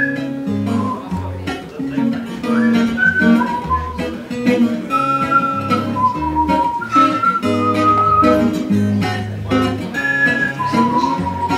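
A man whistles a melodic tune, thin wavering pitched notes riding over a loud musical accompaniment with a steady bass pattern throughout.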